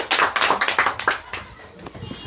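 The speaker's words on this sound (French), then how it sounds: "Applaudissements." Hands clap in quick uneven bursts, several people applauding close by at a gathering for children, the clapping thinning out toward the end with faint voices under it.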